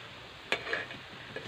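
Ripe banana fritters get turned over in a frying pan of hot oil, a quick scrape and clink of the spatula followed by a gentle, close sizzle.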